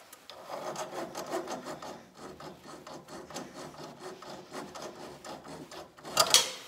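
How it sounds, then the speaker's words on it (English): A hand file rasps flat the thread of a bolt on a broken snowblower drive chain link. The close, rhythmic strokes scrape quickly back and forth at a steady pace, with no talking. "So you keep filing, make sure that it's flat so it doesn't have a thread to come off."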